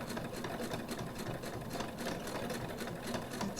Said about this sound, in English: My machine has an automatic lock stitch.